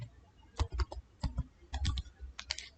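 Clicky keystrokes on a computer keyboard as a command line is typed in Windows, arriving in short irregular bursts of close taps with brief pauses between them, no voices.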